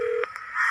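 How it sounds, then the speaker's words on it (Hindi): A mobile phone dials out with a few short electronic beeps and a tone that shifts in pitch, clear and close with no talking. "अभिमन्यु अपना मोबाइल निकालता है और कछुए को फोन करने लग जाता है।"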